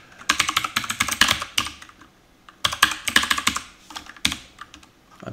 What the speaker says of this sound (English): I'm actually gonna just type in the address of it here.